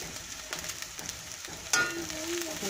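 Spice paste sautéing in a pan over reduced heat, a steady close sizzle with stirring scrapes and a sharper burst of frying partway through, no talk.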